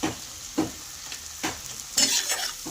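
Turmeric, chilli powder and cumin powder sautéed in a pan for a fish-head moong dal, with a steady sizzle broken by four scraping stirs of a spatula, close and alone.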